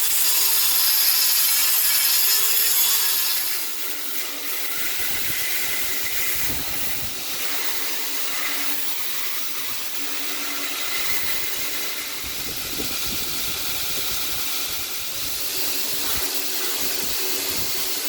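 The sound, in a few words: abrasive wheel grinding scale off a Damascus seax blade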